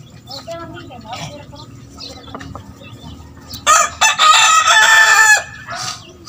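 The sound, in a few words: rooster crowing and chickens at a small chicken farm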